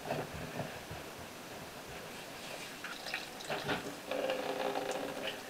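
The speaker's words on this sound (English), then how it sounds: "Okay, so the hot water is on" Hot water running from a Moen single-handle tub and shower faucet, a steady low hiss of flowing water with occasional drips and splashes, growing fuller near the end.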